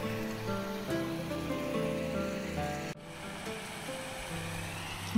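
Water pours down a small waterfall in a steady, even rush, close and moderately loud, with no voices heard.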